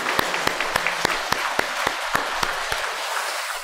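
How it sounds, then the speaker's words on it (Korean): A church congregation claps together at a Sunday worship service, with sharp, evenly spaced handclaps standing out over a steady wash of applause that carries on throughout and fades slightly toward the end. "박수하겠습니다."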